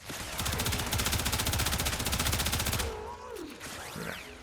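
A Soma Prime rifle in Warframe fires a rapid, unbroken automatic burst for almost three seconds, each shot crisp and loud, then stops and leaves softer game effects and whooshing sounds.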